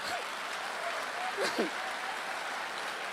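A church congregation applauds during a sermon, a steady, diffuse wash of clapping heard from a distance, mixed with a few voices and brief vocal sounds.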